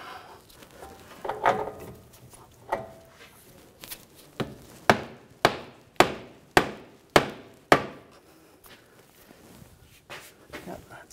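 A hammer taps a CV axle into the wheel hub of a 2009–2010 BMW 535i xDrive, a run of about eight sharp metallic knocks in a quickening series, with someone talking quietly nearby.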